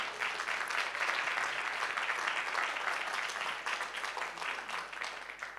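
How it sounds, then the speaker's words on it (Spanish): Church congregation applauding in sustained, dense clapping that holds steady throughout, filling the room with a broad wash of hand claps. "Un aplauso de honra para ellos."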